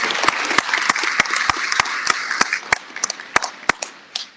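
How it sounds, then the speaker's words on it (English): Police cadet graduation audience in Houston giving a round of applause, a steady wash of clapping punctuated by sharp, loud individual claps close by, tapering toward the end. "a round of applause to Dana"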